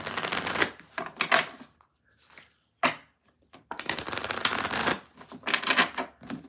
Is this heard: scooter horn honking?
no